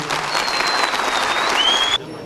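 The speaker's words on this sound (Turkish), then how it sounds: "Velilerimizden öğrencilerimiz için şöyle güçlü bir alkış istiyorum." Parents give strong applause to students at a ceremony rewarding young readers with bicycles, a loud, thick crowd clapping with a thin sliding whistle tone riding over it before the sound drops away.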